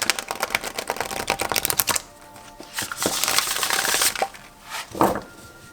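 A deck of flimsy, trimmed Thoth tarot cards is riffle-shuffled up close, giving a rapid flurry of crisp card flicks followed by softer shuffling rustles and a few bursts of cards riffling together.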